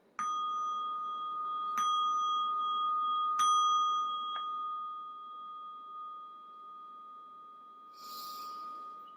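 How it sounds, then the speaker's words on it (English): A meditation bell is struck three times at intervals of about two seconds, each clear ring overlapping the last and fading into a long, sustained hum, followed by a soft breath. "I'm going to ding the bell."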